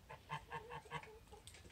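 A Toulouse goose honks repeatedly outdoors on a spring day, a series of five or six close, harsh nasal calls in quick rhythm, fading into quieter grunting honks at the end.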